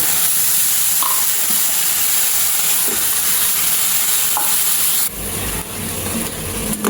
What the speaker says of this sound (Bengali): তো পানি দিয়ে দেব।